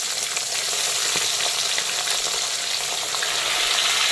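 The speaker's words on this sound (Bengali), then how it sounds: "এখন বাকি মাছগুলোকেও আমি তেলের মধ্যে দিয়ে দিলাম।" Parshe fish frying in hot oil, a steady dense sizzle with scattered crackling pops throughout, close and continuous with no voices.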